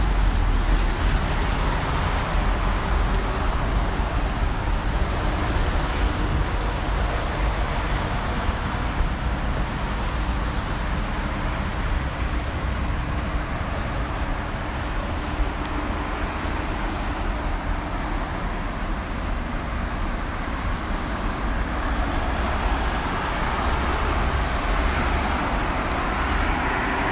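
Loud, steady roar of city traffic in Japan, a continuous broadband wash of engines and tires with no letup and no voices.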